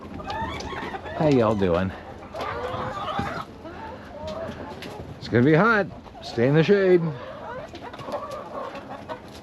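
Backyard chickens cluck and call through a summer morning, with a couple of louder rooster crows among the softer clucking, while a person speaks to them.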